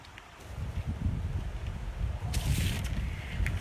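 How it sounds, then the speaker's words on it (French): Strong wind blows outdoors in front of the Cameroonian embassy in Ottawa, buffeting a microphone with a low, rushing roar that swells and gusts, plus a few bursts of rustling. "Il y a le vent ici terriblement."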